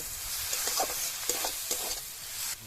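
Spiced tomato mixture sautéing in a pan ahead of adding water for a raw tomato chorchori, a steady close sizzle broken by repeated stirring scrapes, with no one talking.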